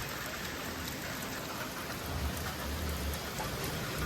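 Heavy rain pours down steadily, a dense, loud, unbroken roar of drops on surfaces, with a deeper low rumble swelling toward the end.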